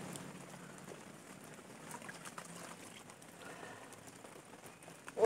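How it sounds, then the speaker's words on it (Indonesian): Steady rain pattering outdoors beside water during a bare-hand fishing trip, a soft continuous hiss of drops with a few louder splashes near the end. "Ayo tuh, hujan."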